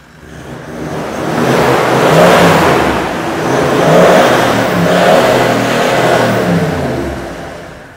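A diesel Land Cruiser 79 four-wheel drive engine revs up and down in a few long surges, deep rumbling exhaust from dual 4-inch pipes roaring close by with no talking.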